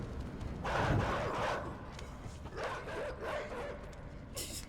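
Dogs bark in the side-scrolling game Inside, sharp yipping bursts coming in clusters over a low rumbling background, moderately close and fairly loud.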